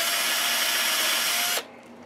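A power drill bores into the body of an Explorer-style electric guitar with a loud, steady high whine for about a second and a half, then cuts off abruptly.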